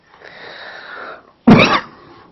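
A man with a sore throat gives one sharp, loud cough burst that fades quickly, following a stretch of faint, breathy throat noise.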